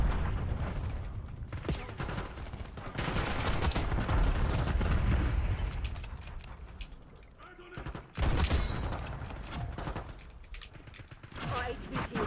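Sustained video-game gunfire crackles in dense automatic bursts, with a brief drop before a sharp renewed volley and more shots trailing off, mixed with game sounds.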